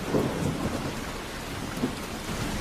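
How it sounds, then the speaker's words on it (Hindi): Heavy rain falls in a dense, steady hiss while low rumbles of thunder roll underneath, loud and continuous with no voices. "बारिश बहुत तेज हो रही है"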